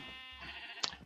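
A sheep bleats once in a farming survival video game, a short, close, wavering cry ending in a sharp high click, with no voices.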